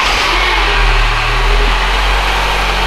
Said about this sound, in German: wir bauen das Ding jetzt wieder ein und dann lassen wir den Motor nochmal laufen